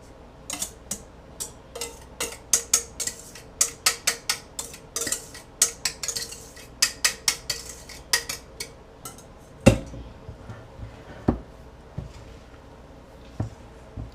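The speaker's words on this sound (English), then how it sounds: "now I'm going to fold this into the chocolate mixture" A spatula folding a soft-peak whipped mixture into chocolate mixture in a bowl, with a run of quick, clear taps and scrapes against the bowl that slow into a few sparse knocks near the end; no talk.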